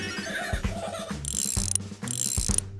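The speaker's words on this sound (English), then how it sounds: "Strong muscles to clench to lift up this wrench." A cartoon wrench ratchets and turns gears on a frozen fire truck, with repeated clicking ratchet strokes, clanks and whirring mechanical turns in quick succession, close and fairly loud, with no talking.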